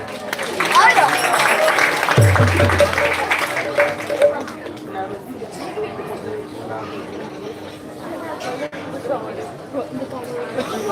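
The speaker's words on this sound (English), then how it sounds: "Please give a round of applause." An audience applauds during a pot auction at the Panihati Chida Dahi Festival, with dense clapping and crowd chatter for the first few seconds, then fading into quieter murmuring.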